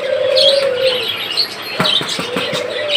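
A pair of caged prince birds (budgerigars) chirp close by, with bright repeated calls over a steady background of other bird sounds.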